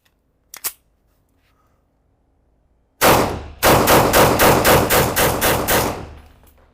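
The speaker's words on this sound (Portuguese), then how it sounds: "Vamos tentar dar mais alguns tiros um pouco mais rápidos." A Canik TTI Combat pistol fires a quick string of about nine loud, sharp shots in steady rhythm, following one isolated report and a pause.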